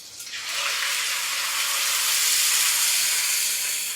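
A paste of turmeric, ginger and chili is dropped into hot oil for tempering, setting off a sudden loud hiss that swells and holds as a steady, bright sizzle to the end.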